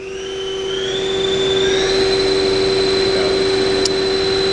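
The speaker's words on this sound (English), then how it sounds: "I'm going to run the main spindle first." A 2003 Takamaz X200 CNC lathe main spindle spinning up, a loud steady mechanical whir with a whine that rises in pitch and then holds steady, with no talking.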